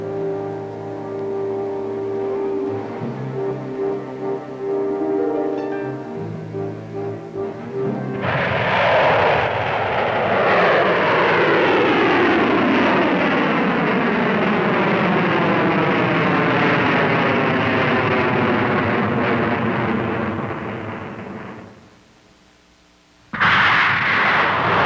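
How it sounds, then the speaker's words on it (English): US Army Pershing ground-to-ground missile launching at dawn in a test series: a sudden loud roaring blast that holds as a broad, steady rumble for about fourteen seconds before cutting off, with another burst at the end. "By dawn of 20 August, they were ready to fire the first missile of the test series."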